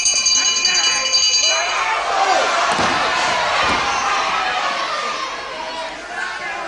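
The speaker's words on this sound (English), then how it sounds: "So the bell will save him from any further worry here." During a wrestling bout between two wrestlers, a ringing bell sounds at the end of a round over loud crowd noise and a thud, with a commentator talking.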